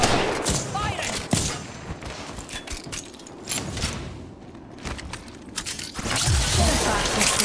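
Gunfire in the Apex Legends video game comes in dense bursts of rapid shots with booming impacts, loud and up close. Game character voice lines are spoken in between.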